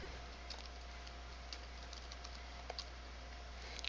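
Light clicking taps on a computer keyboard as a terminal command is typed, a few faint, scattered keystrokes over a steady low hum, with no speech.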